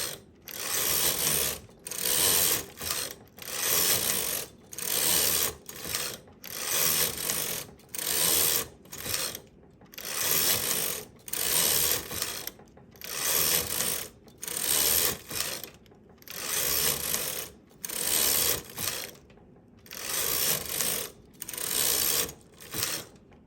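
Knitting machine carriage sliding back and forth across the needle bed while knitting rows for fingerless mittens, a loud rhythmic ratcheting clatter in regular passes separated by brief pauses, close up with no talking.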